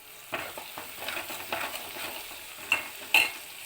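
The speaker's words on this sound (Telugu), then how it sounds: "మిర్చి అయితే బాగా కుక్ అవుతున్నాయి ఇప్పుడు పసుపు అయితే యాడ్ చేయండి కలిపి చూద్దాం" Green chillies frying in a pan as turmeric is stirred in: a soft steady sizzle broken by a series of scraping stir strokes, with two sharper clinks of the utensil near the end.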